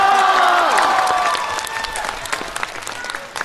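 Audience applause at a Chinese crosstalk comedy show, a loud burst of clapping from a crowd that gradually thins and fades over a few seconds.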